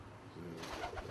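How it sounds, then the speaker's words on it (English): Old Dutch capuchin pigeons give a brief, soft, low cooing murmur, faint and close, over quiet background noise. "these are my old Dutch capuchins"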